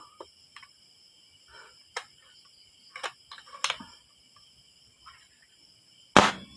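Crickets chirp steadily in the background with a few faint clicks, then one sharp, muffled pop from a .22 caliber air rifle fitted with a silencer near the end.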